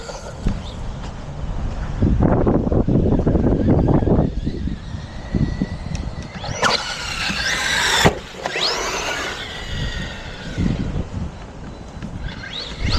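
A RedCat Valkyrie 4S RC car drives through wet, tall grass, its electric motor whining and surging in loud bursts with squealing tones and wind buffeting the microphone, and no voices present.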